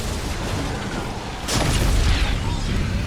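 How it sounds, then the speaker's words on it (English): Explosion in Call of Duty Black Ops 6 Zombies hits a boss: a sudden loud boom midway bursts through dense, noisy combat ambience and leaves a rumbling tail. "We'll try to damage it again with an explosion."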